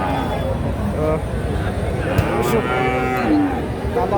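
Several Friesian, Sahiwal and local cattle bulls moo close by at a cattle market, their drawn-out calls overlapping a steady background of crowd noise and nearby voices.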